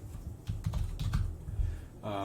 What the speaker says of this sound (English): It's so much typing.